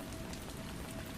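Steady rain falls on a surface in a continuous, even wash, close and constant with no voices.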